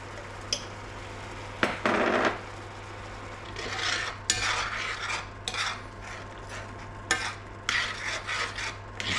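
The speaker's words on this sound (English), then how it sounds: "Just let this simmer for a bit now." Raspberry pie filling with lemon and honey in a pan, a spoon stirring and scraping in repeated rasping strokes over a steady low hum, close and moderately loud.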